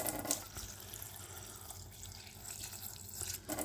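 Water poured into a pot of soaked green gram for cooking, a steady splashing, trickling pour close by with dripping, running a few seconds alone.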